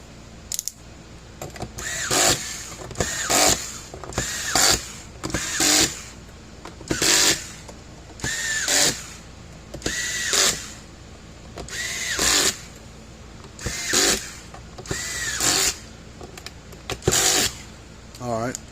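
A HOTO electric screwdriver drives Phillips bits in repeated short whirring bursts, about a dozen evenly spaced runs separated by brief pauses, each rising in pitch as the screw tightens, close and clear.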